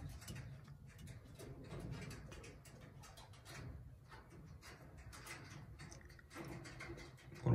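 Soft, low cooing from pigeons in a loft runs throughout, with a faint clack at the end, and no one speaking.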